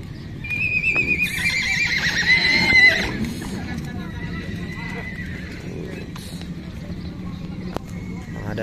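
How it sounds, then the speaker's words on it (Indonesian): Large horses arriving at the Tolo horse market whinny loudly and close by for a few seconds, followed by continuous crowd bustle with people talking throughout. "Kuda-kudanya disambut dengan meriah"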